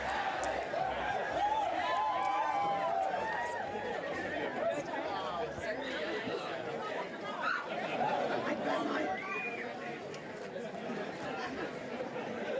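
Election night crowd in South Australia waiting as the Premier steps up to the podium, a steady, loud wash of chatter and cheering with scattered laughter and no clear break.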